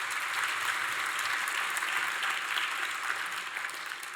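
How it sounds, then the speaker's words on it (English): A conference audience claps for two undergraduate speakers about to give a talk on making Python faster, a steady, even round of applause across the whole stretch that fades slightly at the end. "Let's give them a round of applause."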